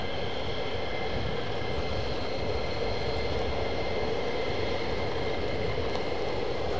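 A British Airways airliner taxiing at RAF Lakenheath gives a steady, distant engine hum and whine that holds evenly throughout, with no talk.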